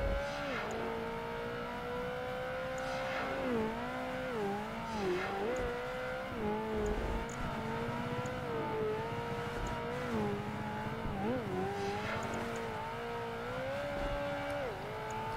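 Ferrari race car engine in a Project Gotham Racing 2 race in wet weather, droning steadily through the whole stretch with rising and falling revs at gear changes and an occasional brief tire squeal.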